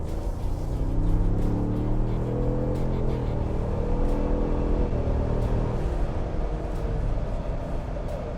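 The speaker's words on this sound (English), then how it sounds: "You can hear the tires now. You can hear the wind noise." Inside a 2021 Ford Bronco Wildtrak at speed, a steady broadband roar of tire and wind noise holds throughout, with a rising engine tone under it and no talking.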